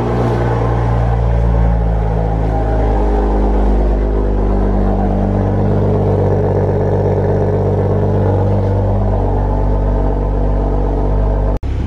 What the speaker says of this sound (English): So might as well give it a nice warm start.